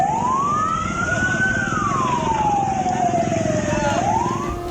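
A fire engine siren wails loud and close in one long rising-and-falling sweep, arriving at a fire at street vendor stalls in Pulo Gadung, East Jakarta, over a steady rumble of traffic and engine noise.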